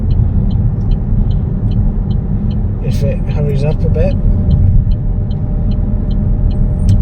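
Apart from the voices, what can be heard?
Vauxhall Grandland X 1.2 turbo car joining the bypass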